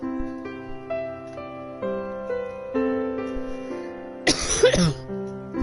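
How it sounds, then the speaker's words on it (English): A single burst of coughing, loud and close, breaks out over steady background music with sustained tones. "this cough is going to be bugging me all day now."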